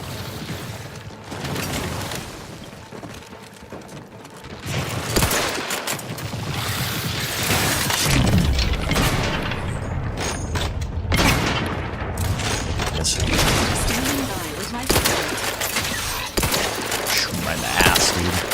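Dense gunfire in The Outer Worlds 2 against a large enemy, rapid bursts and booming shots piling up continuously and loud throughout, with a person talking now and then over the combat.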